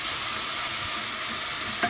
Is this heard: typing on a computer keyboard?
no